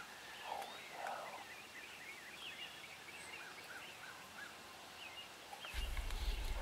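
Faint wild turkeys gobble and call in an open field during spring turkey season, a scattered series of distant rattling calls over quiet rustling, with a louder low rumble of handling noise at the end.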